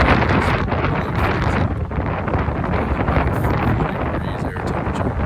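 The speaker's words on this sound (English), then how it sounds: "It's a windy, pretty cold, like with the wind chill." Wind gusts on a cold winter day buffet the microphone in a loud, rough, continuous rumble that swells and dips without pause.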